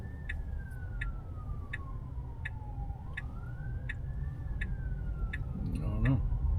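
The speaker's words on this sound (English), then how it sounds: "I hear a siren someplace." A faint siren wails in the distance, rising and falling slowly, with regular ticking clicks and road rumble around it.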